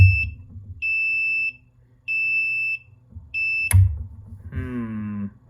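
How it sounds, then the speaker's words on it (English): A beer brewing controller alarm beeps in a repeating pattern, four long high-pitched tones with short pauses between, followed by a brief different tonal sound. "Alarm signal now, sweet."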